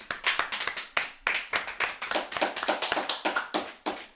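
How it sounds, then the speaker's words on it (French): A small group at a Beyblade awards show claps, giving distinct, sharp claps in short uneven bursts, close and clear against a quiet background. "Un tonnerre d'applaudissements, s'il vous plaît."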